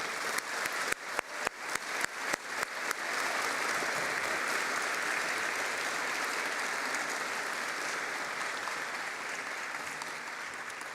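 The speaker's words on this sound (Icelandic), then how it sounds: "Og þá má klappa fyrir þessum iðnmeisturum." A few scattered claps quickly swell into sustained applause from a sizeable crowd at a technical college graduation ceremony in Harpa concert hall, continuing steadily throughout.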